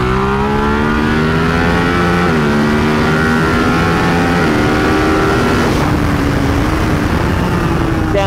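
A Buell Hammerhead 1190 RX superbike roars around a race track, its big engine loud and steady with rising and falling revs as it downshifts and pulls out of corners.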